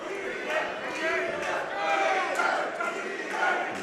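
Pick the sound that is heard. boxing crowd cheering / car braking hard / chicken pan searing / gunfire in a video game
boxing crowd cheering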